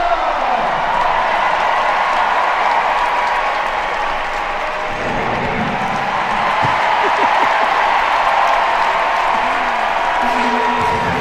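Sold-out stadium crowd at a Savannah Bananas game in the Cleveland Guardians' MLB park applauding the Bat Boy, a broad sustained wash of clapping and cheering from the stands under an announcer's voice.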